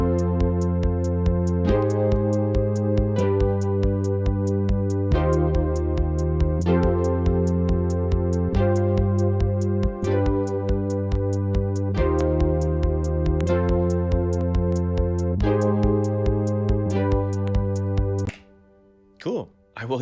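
A repeating synth bass line, made in Ableton, plays in a steady looped pattern, its low notes full and buzzy, continuing for about eighteen seconds before cutting off.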